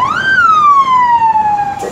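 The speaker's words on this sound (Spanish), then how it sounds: "Siguen llegando patrullas del estado, miren." A state police patrol car's siren sounds close and loud in a single sweeping wail that climbs, then slowly glides down before cutting off.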